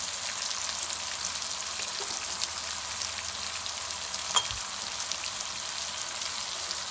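Chili powder cooking in oil with pumpkin curry in a pan, a soft continuous sizzle and bubbling, quiet and even, with one brief clink near the end.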